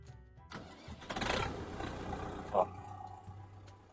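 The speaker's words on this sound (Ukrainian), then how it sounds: "як трактор заведений, воно так тарабанить, дивіться." A Kentavr 504F tractor's small engine runs with an uneven rattling chug, close by, with a sharp clank partway through and no speech.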